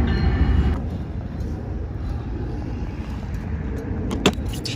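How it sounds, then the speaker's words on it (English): A train rumbles past outdoors at a skate spot: a steady, loud low roar fills the whole stretch, with a brief sharp clack near the end. "See, look at that, there's a train."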